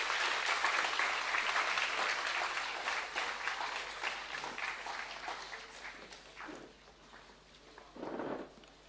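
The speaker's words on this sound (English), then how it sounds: "Can we have a huge round of applause," A large audience at a formal science celebration event applauds in sustained, dense clapping that gradually thins out, with a few voices and faint footsteps near the end.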